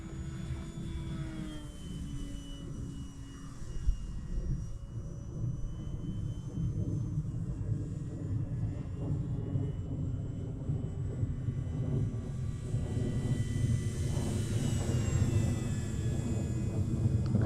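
An airplane passes overhead with a broad, steady roar that builds and swells over the span, distant at first and growing fuller, heard alone outdoors with no talking.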